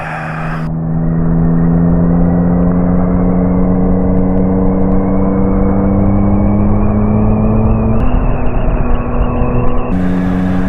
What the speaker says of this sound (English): Again, I'm downshifting with the clutch.